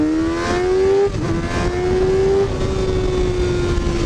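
Motorcycle fitted with a new sprocket pulling away hard in first gear, its engine note loud and close, climbing steadily in pitch with a brief dip partway through before rising again.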